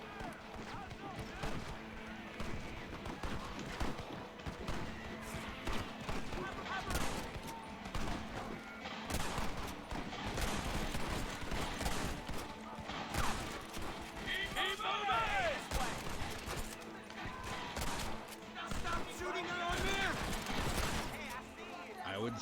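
Gunfire in Red Dead Redemption, a continuous chaotic shootout with overlapping shots and ricochets throughout, mixed with game sounds and a talking voice.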